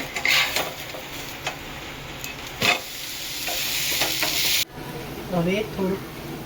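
Handvo batter cooks in oil in a covered pan with a steady sizzle, broken by clinks and knocks of a lid or utensil against the pan, with a brief voice toward the end.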